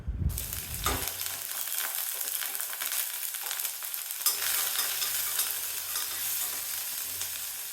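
Slit green chillies and long-sliced onion sizzle and crackle as they are sautéed in hot oil, a loud, steady fry with brief stirring scrapes near the start.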